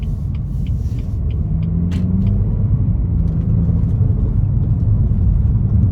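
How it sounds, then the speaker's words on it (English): Road noise inside a BMW F30 320i while driving, a steady low tire and engine rumble that fills the cabin, with a few faint clicks and higher tones over it and no voices. "Makes a little bit more road noise than I would like"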